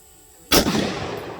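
A single gunshot fired at an exploding target outdoors: one sharp, loud crack after a brief quiet moment, followed by a fading rumbling echo.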